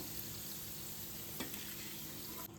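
Green chillies frying in hot oil for poha chivda give a soft, even sizzle that runs unbroken, with one brief clink partway through and an abrupt drop at the end.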